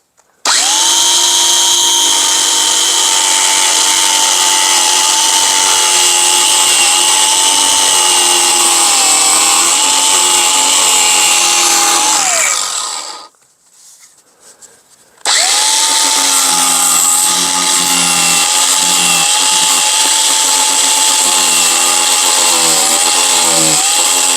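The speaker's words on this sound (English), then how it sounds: "So I'm going to use this cutoff wheel." Cutoff wheel on a power tool grinding into rotted mobile home framing, a loud sustained high whine that drops out briefly mid-way and then starts up again, with no talk.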